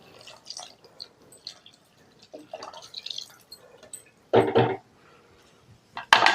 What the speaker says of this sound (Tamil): கறி மூழ்கிற வரையும் தண்ணி ஊற்றிக்கலாம்